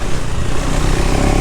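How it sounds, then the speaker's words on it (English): A KTM 390 Adventure motorcycle engine revs hard during a ride, a loud, close, continuous raspy roar with no one talking. "This engine definitely likes to rev."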